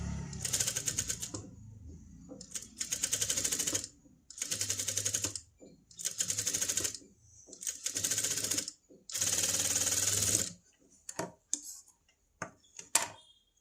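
A sewing machine stitches a princess-cut blouse with a boat neck along a marked margin, running in several rapid rattling bursts of a second or two with short pauses and a few clicks near the end.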